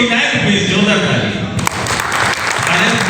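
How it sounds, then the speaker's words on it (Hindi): A crowd at a business presentation breaks into steady, loud applause that fills the space without letup. The dense clapping carries on throughout, with no voice rising above it. "जोरदार ताली"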